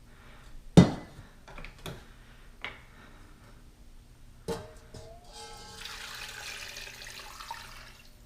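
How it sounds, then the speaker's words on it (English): Broth from a red wine braised beef short rib is poured back into a cooking pot. A few sharp clanks of cookware come first, then a soft, steady liquid pour that is fairly close, with no voices. "Let's pour the broth back on."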